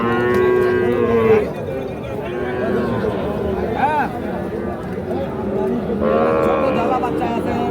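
Young calves and bull calves moo repeatedly at Ambari cattle market, with long drawn-out lowing calls rising over a steady crowd murmur and nearby voices talking.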